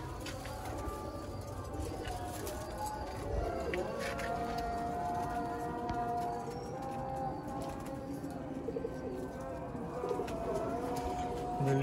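Sialkoti pigeons coo in low, repeated calls amid a busy background of flapping and rustling, with a steady murmur throughout.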